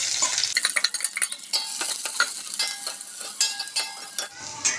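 Onions and green chilies sauté in a hot pan with curry leaves, a bright sizzle punctuated by rapid, repeated spatula scrapes and clinks, close and fairly loud with no voices.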